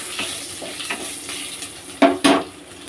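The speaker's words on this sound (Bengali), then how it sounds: "গোটা জিরে দিয়ে এবার আমি একটু নাড়ব।" Whole cumin seeds sizzle softly in hot oil on a low flame while being stirred in a pan. Light scraping strokes run throughout, and two louder scrapes come near the end.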